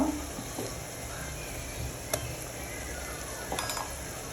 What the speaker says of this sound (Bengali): এটা ভালো করে ভেজে নিতে হবে ভালো করে ভেজে নেব